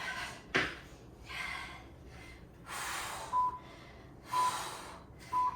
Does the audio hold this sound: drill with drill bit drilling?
no